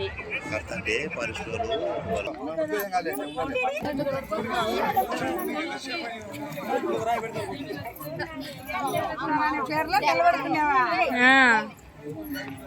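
A crowd chatters at the Sri Kasinayana Jyothi Kshetram temple in Kadapa district, with a steady babble of many voices and close voices talking over it.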